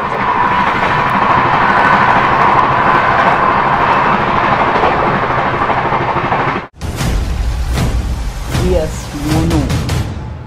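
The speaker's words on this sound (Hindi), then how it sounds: "आज हम लोग की जो ट्रेन जर्नी है वो होने वाली है train number 12560 new Delhi Banaras Shiv Ganga express में" Shiv Ganga Express, train number 12560 between New Delhi and Banaras, rolling along with a steady loud rumble that cuts off abruptly, followed by busier clatter with voices over it.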